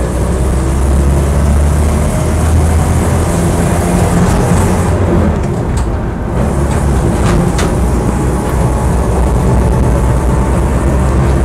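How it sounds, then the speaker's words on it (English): Land Rover Series III 88 hardtop driving on the road, with a steady low engine drone and a transmission resonance that stay loud and constant throughout, and no talk. "A little bit of resonance in the transmission."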